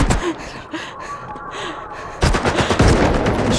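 Gunfire in the game S.T.A.L.K.E.R. 2: Heart of Chornobyl, a few scattered shots early on, then a dense, loud burst of rapid automatic fire with no talking over it.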